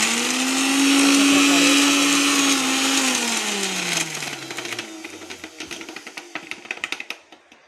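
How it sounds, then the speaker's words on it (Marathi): A loud mixer grinder runs at a high, steady whine while grinding thalipeeth ingredients, then winds down with a falling pitch. Loose rattling and knocking follow as the blades slow. "आता आपण हे आधी मिक्सरला ग्राइंड करून घेऊया"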